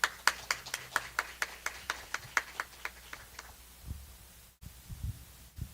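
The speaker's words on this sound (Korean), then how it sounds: "우리 박태진 전도사님한테도 박수 한번 보내주세요" A church congregation at Sunday worship applauding an evangelist, heard as a steady run of single hand claps at an even beat that stops partway, followed by quiet room sounds.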